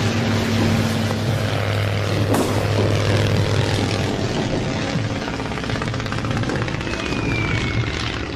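An early World War I–era propeller airplane flies with a dense, continuous engine drone and propeller roar, loud and steady throughout with no voices.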